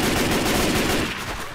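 Dense, rapid gunfire in Left 4 Dead 2, a continuous loud burst of overlapping shots that eases slightly toward the end.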